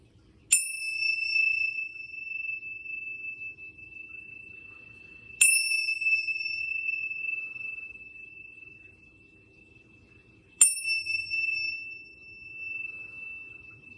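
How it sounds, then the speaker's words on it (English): Three clear Tibetan bell strikes spaced about five seconds apart, each a bright ringing tone that sustains and slowly fades, over quiet background. "I ring the Tibetan bells to help clear any of the energy"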